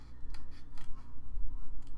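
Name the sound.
detail scissors cutting paper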